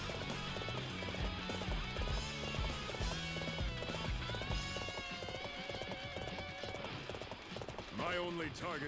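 Horses gallop with rapid clip-clopping hoofbeats beneath loud game music and battle noise in Dynasty Warriors 7, ending with a whinny.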